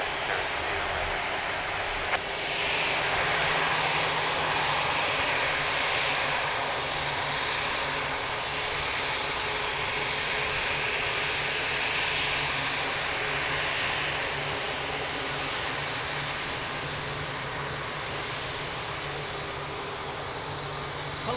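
Aircraft engines roar steadily at Lisbon Airport during approaches and takeoffs, a loud continuous broadband rush that holds its level without pause.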